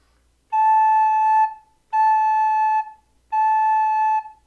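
Three steady, clear recorder notes at the same pitch, each held about a second with short pauses between, played alone.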